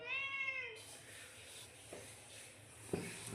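A house cat gives one short, rising meow close by at the start, followed by quiet rustling and soft handling noises.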